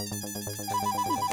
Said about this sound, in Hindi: ये रात को किसका फोन है?